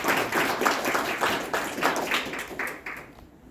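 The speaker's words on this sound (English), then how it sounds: "Let's give them a round of applause." Quick, scattered clapping from a modest crowd, a burst of applause that thins out and fades toward the end.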